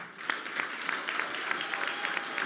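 A crowd at a public address in Kiembesamaki, Zanzibar, breaks into sustained applause: dense, steady clapping with sharper individual claps popping out, continuous throughout and fairly close.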